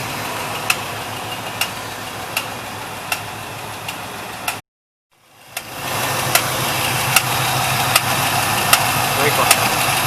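A 1973 Pontiac Trans Am with a 455 engine idles with an abnormal noise: a steady rumble punctuated by evenly spaced ticking knocks. The sound cuts out briefly midway, then resumes.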